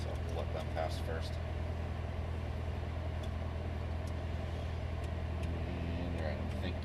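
A line of cars, including a Chevrolet Corvette Z06 Stingray, driving past on a track, heard as a continuous low engine and road rumble at moderate distance, with no talk.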